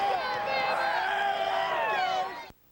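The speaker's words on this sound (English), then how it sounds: "Good-sized crowd on hand in Shreveport for the Mainstay Independence Bowl." Good-sized crowd murmuring in the stands at the Independence Bowl college football game in Shreveport, Alabama vs Iowa State, a steady loud roar of voices with whoops and cheers rising above, ending abruptly with a short quiet gap.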